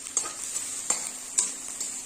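Chopped onions fry in a pan with a steady, close sizzling hiss, broken by several sharp scrapes and clinks of a spoon stirring against the metal.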